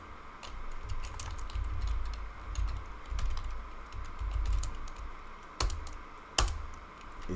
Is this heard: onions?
no